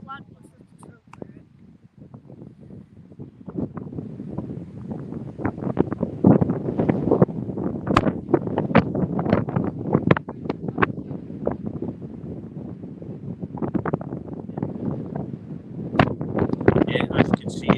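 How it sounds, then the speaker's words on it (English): Strong gusts buffet the microphone in rough, roaring bursts that build and swell, with voices faintly present beneath the wind. "as you can see, the wind here playing absolute havoc"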